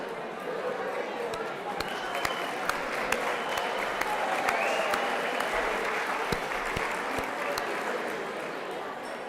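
A hall of fame induction gala crowd claps and cheers continuously, a dense wash of applause with scattered sharp claps and a murmur of voices mixed in.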